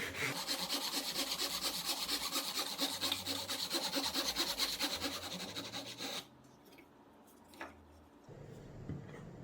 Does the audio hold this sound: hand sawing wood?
yes